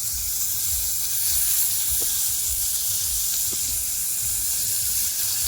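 Prawns fry in hot oil on a heated clay roof tile, giving a steady, loud, close sizzle and hiss that runs unbroken throughout, with faint bubbling pops underneath and no talk.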